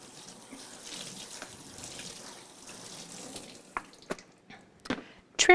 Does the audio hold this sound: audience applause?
no